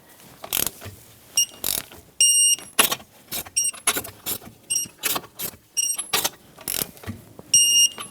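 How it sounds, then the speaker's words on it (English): A ratchet with a 21mm socket tightening lug nuts on a Nissan Rogue wheel, giving repeated close, sharp clicking bursts in quick rhythmic strokes with short pauses between them, no voices. "the torque spec for this Nissan Rogue is 80 foot-pounds for the lug nuts, 21mm socket, and we're going to go in a star pattern"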